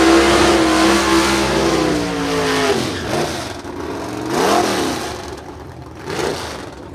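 A Camaro drag racing car accelerates hard at a bracket drag race. Its engine revs climb in rising sweeps between gear changes, loud and near, then it roars away down the strip.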